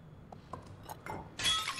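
Objects knocked over and breaking in the video game Stray: a few light clinks and knocks followed by a louder glassy crash near the end, close and fairly loud.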